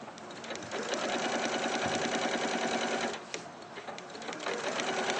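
A sewing machine stitching reverse applique, running in fast continuous bursts with a short pause midway, loud and close.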